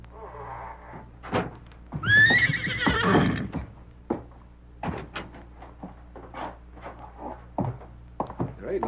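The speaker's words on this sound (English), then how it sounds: "The horses look fine." Horses in a stable for a radio drama: a loud whinny rises near the start, followed by scattered hoof knocks, thumps and shuffling, with low voices murmuring at moments.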